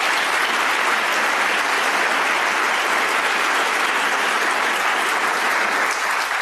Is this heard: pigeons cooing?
no